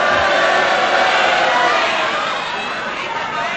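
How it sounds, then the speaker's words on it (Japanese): A packed arena crowd at a 1992 All Japan pro wrestling tag match, Jumbo Tsuruta and Akira Taue against Kenta Kobashi and Tsuyoshi Kikuchi, boos in a loud, sustained roar that barely eases. "ブーイングが飛んでいます"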